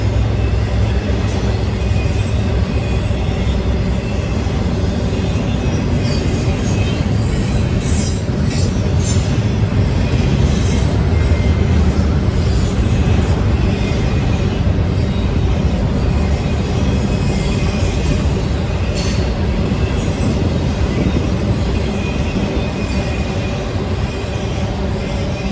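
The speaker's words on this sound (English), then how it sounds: "an eastbound, which would be NS20R, a priority intermodal train" Norfolk Southern NS20R, an eastbound priority intermodal freight train in northeast Ohio, rumbles past at close range with steady wheel roar, rail clatter and faint squeals, loud and continuous for the whole stretch.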